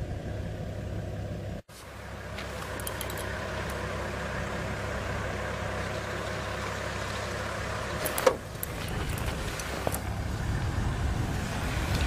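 A safari vehicle's engine rumbles steadily at low volume with tyre and road noise, the sound swelling slightly toward the end as it draws near.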